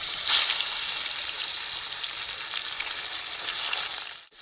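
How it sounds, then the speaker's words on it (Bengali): Koi fish frying in oil in a wok, a steady loud hiss and crackle of sizzling oil throughout, with brief surges of spattering and no talking. "আমি তেলটা দিয়ে দিচ্ছি কড়াইতে, মাছটা প্রথমে ভেজে নেব"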